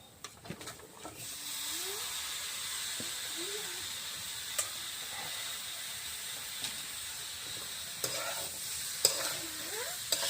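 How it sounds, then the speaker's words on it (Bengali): Bottle gourd poured into frying lentils for a vegetarian lau ghonto, giving a steady sizzle and hiss with scattered stirring knocks and scrapes throughout. "আমার ডাল হয়ে গেছে, এখন আমি লাউটা এর মধ্যে ঢেলে দিলাম"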